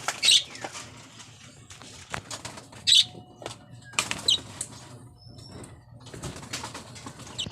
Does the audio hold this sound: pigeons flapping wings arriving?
yes